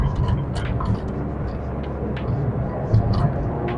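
Honda Mobilio with a freshly overhauled CVT accelerating on an empty road during a test drive, a steady low cabin drone of engine and road noise with a brief swell near the end.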